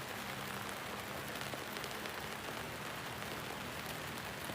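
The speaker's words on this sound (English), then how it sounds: "and you listen to the rain." Rain falls as a steady, dense hiss of drops with no pauses, constant and even in level, with no voices.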